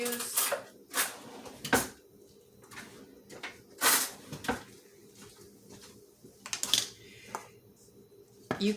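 A whole nutmeg rubbed over the tines of a metal fork: a series of short, bright scraping strokes at an uneven rhythm, with a few sharper metallic clinks and quiet pauses between them.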